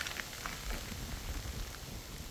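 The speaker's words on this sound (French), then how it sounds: "Ça pleut grave grave grave." Heavy rain pours steadily during a hike in stormy weather, a dense, even hiss of drops close around with scattered louder patters.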